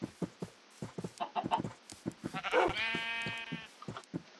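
A sheep bleats once in a drawn-out quavering call in Minecraft, following a run of soft footsteps and small clicks, quiet and close.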